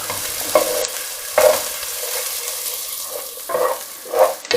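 Chopped onion softening in a pan for roasted red pepper soup, with a steady low sizzle and a few clearer scrapes of a spoon stirring, close and moderately loud with no talking.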